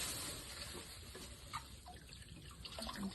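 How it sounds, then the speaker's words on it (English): Water runs steadily from a tap as old canning jars with bleach-loosened mold are rinsed, a soft constant splashing with a few faint glassy knocks and drips. "just kind of give them a little rinse as we take them out"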